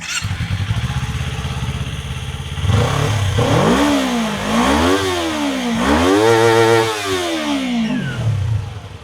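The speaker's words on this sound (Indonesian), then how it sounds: "khas suara mesin 2 silinder segaris parallel twin" A QJ Motor SRK 250 RA parallel-twin motorcycle engine, 250 cc with a redline near 14,000 rpm, idles steadily, then is revved in several rising and falling blips before settling back, loud and close.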